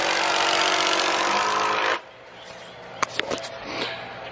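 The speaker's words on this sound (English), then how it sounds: "We happen to be screwing this deck." Power screwdriver driving screws into porch deck boards: a loud, steady whir runs for about two seconds, then stops abruptly, followed by a few short sharp clicks and knocks.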